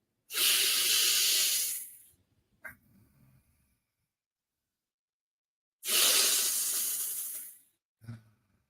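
Two slow, deep, breathy exhales in a guided breathing exercise, each a long airy hiss lasting about two seconds, close and clear, followed by a soft short inhale and quiet pauses between.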